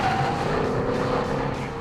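Chevrolet SS sedan driven hard through corners, with a steady, dense engine and road roar that holds close and even throughout, with no talking over it.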